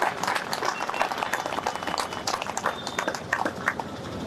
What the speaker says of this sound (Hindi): जोरदार तालियां इनके लिए बजाइए